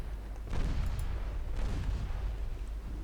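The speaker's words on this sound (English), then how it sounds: "Scored a torpedo hit." A torpedo strikes a warship in the naval game Ultimate Admiral Dreadnoughts, giving a deep rumbling explosion that swells after a brief lull and rolls on in a second booming wave, loud and sustained.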